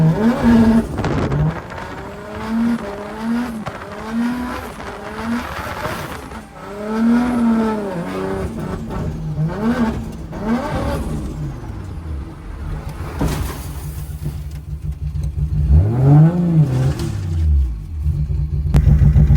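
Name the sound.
1JZ-engined S13 drift car driving on wet track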